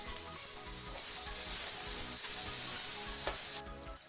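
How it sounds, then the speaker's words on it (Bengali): Chopped onion fries in hot oil with bay leaf, cardamom, clove and cinnamon, a loud continuous sizzle with occasional stirring scrapes, dropping suddenly quieter near the end. "পেঁয়াজটা ভাজা হয়ে এসছে"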